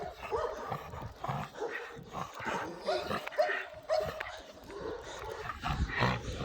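An American Staffordshire Terrier on a chain barks in short bursts and whimpers restlessly among background commotion, fairly close.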